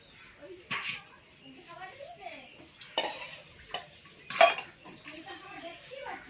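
A metal wok clanks and rattles as it is washed and set on a kitchen stove, with several separate sharp knocks and scrapes close by and a faint voice murmuring between them.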